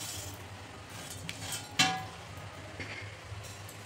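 Cooled sabudana being mixed into bhagar in a dish: soft, faint scraping and stirring with a few light clinks, one sharper clink standing out, in a quiet kitchen with no talk.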